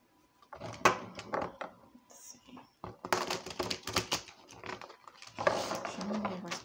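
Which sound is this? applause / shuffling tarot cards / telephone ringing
shuffling tarot cards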